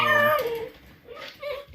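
Eight-week-old puppies whimpering, a close, high, wavering whine that falls off, followed by two softer short whimpers.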